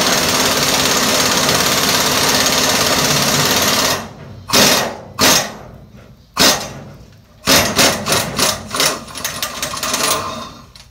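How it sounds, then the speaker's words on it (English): A continuous loud mechanical rattle, like an impact tool, runs for several seconds on a stock lug nut on a Ford 8.8 axle shaft, then stops and gives way to a series of sharp, irregular metallic bursts. "Ready, set, hammer."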